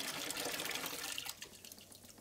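Used fixer solution is poured out of a film developing tank into a sink during black-and-white film processing, a steady close liquid splash and gurgle that thins out toward the end, with no talking.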